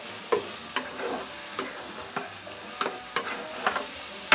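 Shrimp scampi with orzo pasta is stirred in a pan with butter, garlic and wine: a low sizzle broken by about ten rhythmic spoon scrapes and clicks against the pan, close and distinct.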